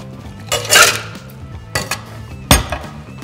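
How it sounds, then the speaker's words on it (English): Ice stirred with a bar spoon in a shaker for a gin martini with dry vermouth, loud close clattering and rattling in a few bursts. "So let's stir the cocktail. So really cold, a long stir."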